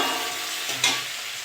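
Close, dense sizzle of onions frying in oil, with one short stirring scrape in the middle of the brief burst.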